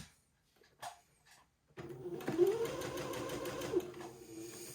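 Sewing machine stitching the armhole seam of an heirloom baby garment, a few quiet handling clicks first, then a steady close whirring run of stitches for the remaining few seconds.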